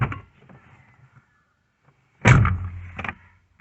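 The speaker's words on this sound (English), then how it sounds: "I'm gonna open up the door." A car door opens with a sharp latch click and thud, followed by a second clunk, close and loud after a few soft shuffling sounds.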